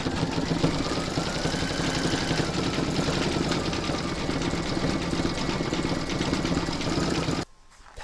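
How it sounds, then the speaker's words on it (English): A computerized embroidery machine stitching a large reindeer applique design gives off a steady, loud, rapid mechanical whir and clatter that runs continuously, then stops abruptly near the end. "Pop your hoop back into your machine and stitch round to number 10."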